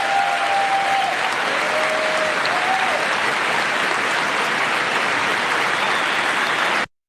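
Steady, loud applause fills a large hall after Trump's line about winning the electoral college, a dense uniform wash of clapping from a big crowd that continues unbroken and then cuts off abruptly.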